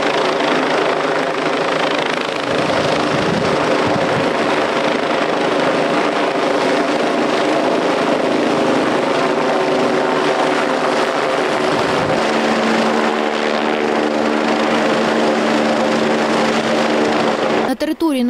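A helicopter's steady, loud rotor and engine drone runs throughout a civil protection training exercise near Rivne, Ukraine, with a deeper tone shift partway and an abrupt cutoff at the end.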